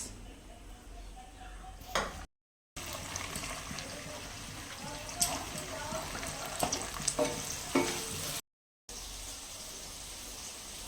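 Carrots, cauliflower and beans fry in a pan with a steady crackling sizzle and intermittent stirring scrapes. It is moderately quiet, with two brief dropouts.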